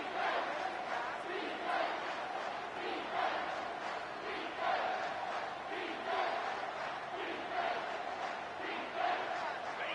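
A stadium crowd at a Georgia versus Oklahoma national championship football game chants and cheers in a steady rhythmic pulse, the massed voices rising and falling in regular waves under the broadcast.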